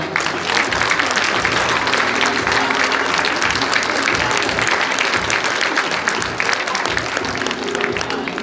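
A crowd at a Polish dance sport tournament final in Maków Podhalański applauds loudly and continuously for over eight seconds, a thick, sustained roar of many clapping hands in a school hall, with a faint voice underneath.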